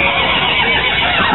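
Horse whinnying at a petting zoo, a continuous loud neigh filling the short moment close by, with no talk over it.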